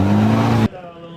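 An N4-class rally car at the 2012 Rally Kurzeme in Latvia, running roughly, gives a loud, steady engine drone that cuts off abruptly after about half a second, leaving faint background noise.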